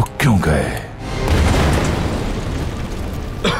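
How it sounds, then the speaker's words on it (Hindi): A horse-drawn carriage explodes with a sudden heavy boom, followed by a deep rumbling roar that lingers and slowly fades. "पारवुस को ले जाने वाली बग्गी में धमाका हो गया है।"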